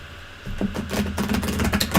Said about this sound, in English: I'm going to let you shuffle and cut too, Mr. O.